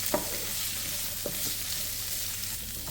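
Ingredients for a chutney sautéing briefly in hot oil, a steady soft sizzle running throughout with a few scraping stirs of a spoon in the pan, moderately quiet and close, no voices.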